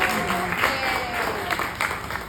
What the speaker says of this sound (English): Please give them a round of applause for dealing with us for all this time.